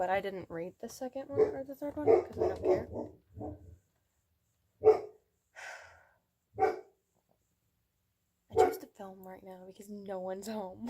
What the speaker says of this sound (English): Of course she's barking.